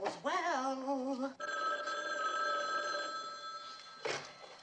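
Telephone in a residence ringing, an electronic warbling trill that rings, then gives way to a sustained tone, with a brief second burst near the end.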